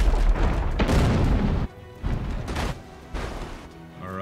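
Ship cannons in the naval video game Abandon Ship fire a rapid volley of four heavy booms, the first two blending together, then two separate blasts, each with a short rumbling tail.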